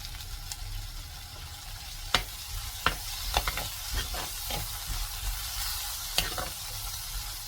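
Mushroom gravy ingredients, with curry leaves just added, sauté in a pan. A steady sizzle runs throughout, broken by sharp scraping clicks of a spoon stirring at irregular intervals. No voices.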